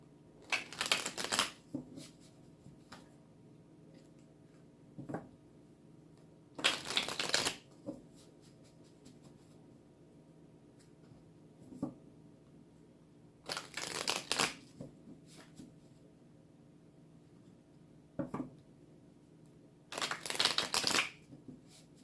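Tarot cards are shuffled in four separate bursts of quick riffling, each about a second long, with near silence and a few soft taps between them.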